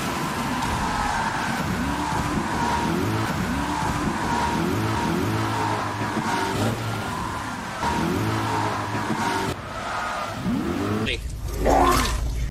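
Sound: car racing and tire squeal from a driving video game

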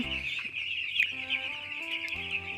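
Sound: chickens clucking on a broiler breeder poultry farm

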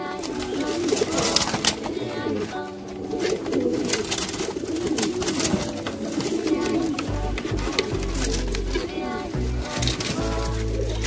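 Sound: racing pigeons cooing while being handled

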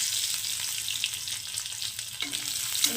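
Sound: crushed garlic frying in a pan

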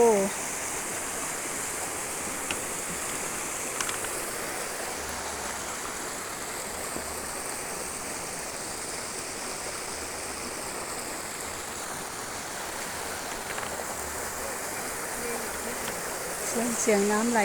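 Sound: flowing water at a mountain temple waterfall

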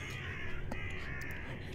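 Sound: crows cawing in Deeper Sleep video game

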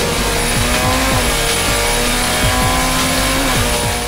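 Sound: drifting car engine and tire squeal

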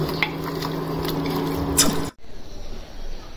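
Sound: sautéing ginger garlic paste with cinnamon and bay leaf

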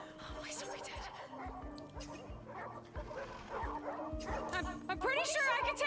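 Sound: puppies barking in video game The Red Lantern

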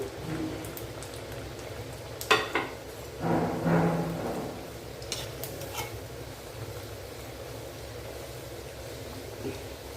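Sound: frying sweet almond puris in oil

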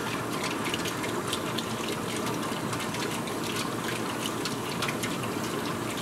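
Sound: water drawn through Buchner funnel by vacuum filtration

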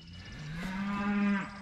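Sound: cows mooing in a pasture

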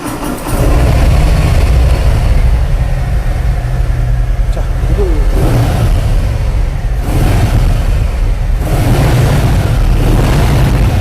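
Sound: Harley-Davidson motorcycle engine starting and idling

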